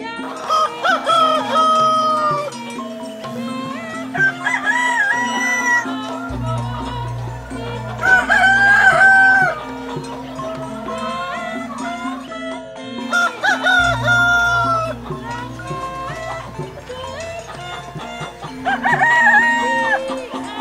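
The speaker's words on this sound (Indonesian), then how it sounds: "Jago." Roosters crowing repeatedly along with other farm fowl clucking, loud and close, with overlapping calls and low animal noises filling the background.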